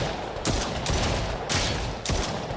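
Laser gun fire in the VR shooter game VirtualBuster, three or four loud, harsh bursts of blasting noise a fraction of a second apart, each broad and crackling against a busy game backdrop.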